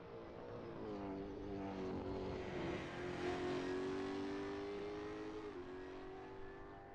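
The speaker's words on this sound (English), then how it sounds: "Car looks pretty straight in the way he's driving it off the corners." A race car driven hard off the corners on a circuit: a steady, sustained engine drone with rising and falling harmonic pitch as it accelerates, fairly loud and continuous, with no talk.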